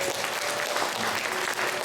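Church congregation applauding to welcome newly baptized members during a Sunday service, a dense, steady wash of many hands clapping, loud and sustained for the whole short stretch.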